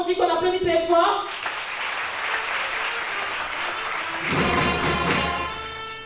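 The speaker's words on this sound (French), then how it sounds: "on dit qu'on applaudit très fort." Audience applause at a French spelling championship, with a few words spoken over the start before loud, steady clapping fills the room and swells again toward the end.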